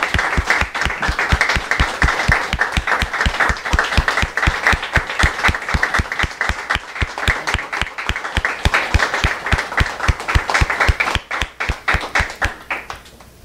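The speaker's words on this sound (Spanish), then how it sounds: "por favor demos un aplauso a los invitados" An audience applauds guest vice ministers of education at a panel discussion, a sustained round of clapping that turns into fairly rhythmic, unison beats before thinning out near the end.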